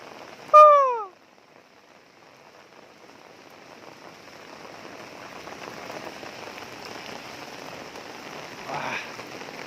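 Heavy rain pours down outdoors in Singapore, a broad, steady hiss that gradually swells louder, opened by a brief rising whistle-like call near the start.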